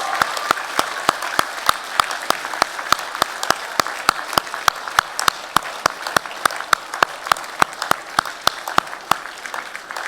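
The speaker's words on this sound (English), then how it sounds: "give all your friends, your family, your supporters, your round of applause" Graduates at a university graduation ceremony in Melbourne applaud in a steady, moderately loud round, overlaid by a few sharp, evenly spaced close claps that stand out above the crowd.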